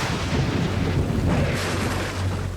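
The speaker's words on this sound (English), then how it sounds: "huge tropical storm is now tearing through camp" Heavy tropical rain roars continuously over a camp on an island, with a deep rumble of thunder rolling underneath throughout.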